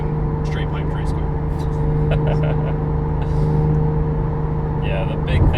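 A Porsche GT3 with an exhaust louder than stock idles in a steady, deep, droning rumble with a constant tone, close by, while people talk over it throughout.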